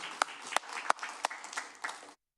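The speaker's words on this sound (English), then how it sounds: "All right, you can applaud." Applause from the audience at a Daly City city council regular meeting: a short burst of clapping with several sharp, distinct claps standing out, moderately loud, then cutting off abruptly.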